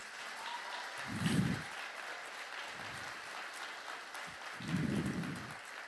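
Steady applause from a church congregation fills the whole stretch, a dense wash of clapping that swells slightly in a couple of places and never stops.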